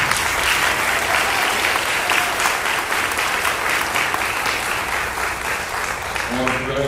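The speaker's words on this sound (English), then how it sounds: "So let's give them a round of applause." A large crowd at a Proviso Township High Schools summer graduation ceremony applauds the class of 2025: sustained, loud, even clapping that fills the whole stretch, with a voice faintly emerging near the end.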